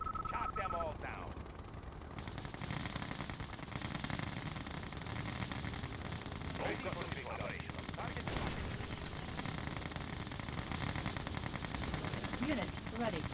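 Continuous gunfire and machine-gun bursts from units in the Yuri's Revenge real-time strategy game, a dense, steady battle din under game unit voice lines.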